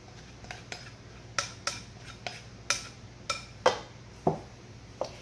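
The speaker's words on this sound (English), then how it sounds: "as you're stirring it, you're incorporating more and more of the flour" A utensil stirring spinach pasta dough and working in flour inside a pan, making about a dozen sharp clinks at an irregular pace, close and clear over a low background hum, with no talking.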